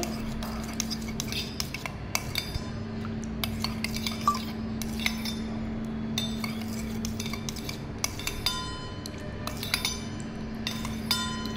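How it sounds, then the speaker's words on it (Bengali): Hair oil is stirred and mixed in a bowl, with a spoon clinking and scraping against the sides in irregular taps over a low steady hum, close and alone. "ওটাকে ভালোভাবে মিক্স করে নিচ্ছি।"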